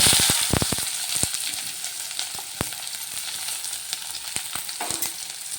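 Grated onions sizzle loudly in a pan right after whole cumin went in, a dense close frying hiss punctuated by sharp crackles and spatula scrapes, with no one speaking.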